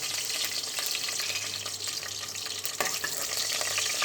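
Bay leaves and whole spices such as cardamom and cloves frying in hot oil in a kadai for mutton kaleji, a steady close sizzle with light stirring throughout and no talking.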